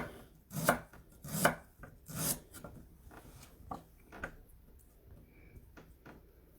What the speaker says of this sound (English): We're just going to cut straight down through it, making ourselves nice little discs.